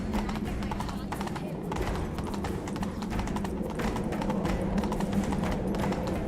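A horse gallops in The Witcher 3: Wild Hunt, a steady rapid clip-clop of hooves running continuously under faint ambient sound.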